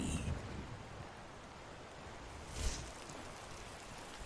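A thunder crack spell cast during a rainstorm in the video game Skyrim: steady hissing rain throughout, broken by one sharp crack midway.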